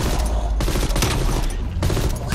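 Dense, continuous bursts of gunfire in Call of Duty: Black Ops Cold War, loud and overlapping with brief gaps, filling the whole moment without talk.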